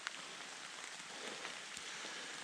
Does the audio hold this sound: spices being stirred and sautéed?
no